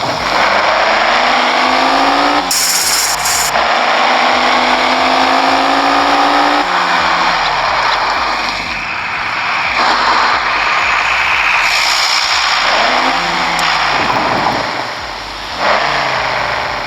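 A car in the mobile game Car Parking Multiplayer revs its engine repeatedly, the pitch climbing and falling in loud, close surges with no talk over it.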